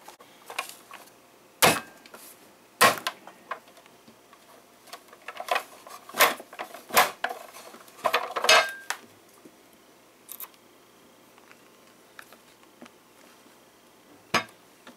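A hand-pressed French fry cutter plunges down through whole potatoes, giving a string of sharp, crisp clacks and crunches at irregular intervals with quiet gaps between presses, close and clear with no talking.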